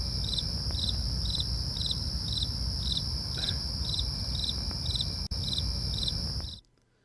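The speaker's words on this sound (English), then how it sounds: "Because that's what I'm getting right now, crickets." Steady crickets chirp in a regular pulsing rhythm, loud and continuous against a quiet background, then cut off abruptly near the end.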